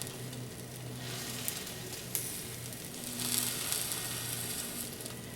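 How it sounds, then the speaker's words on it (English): An egg fries undisturbed in butter in a pan, giving a soft, steady sizzle with faint crackles and pops, close and quiet, with no talking. "You're really just letting the egg cook, and you want to kind of leave it undisturbed"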